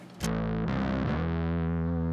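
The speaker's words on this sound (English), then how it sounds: "we add in those clipping diodes. It does a couple things. We get more distortion into the signal" A distorted electric guitar chord through a Master Effects Super Forty pedal with clipping diodes engaged rings out loud and sustained, with a gritty, saturated tone that rolls smoothly into a second held chord.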